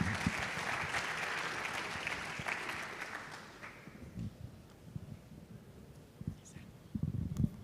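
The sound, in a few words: audience applause at symposium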